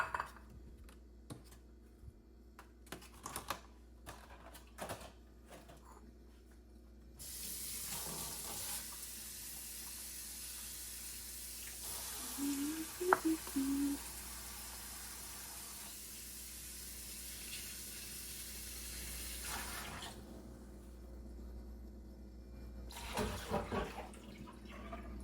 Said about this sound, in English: ready to wash my fruit, some blueberries. Just go strawberries.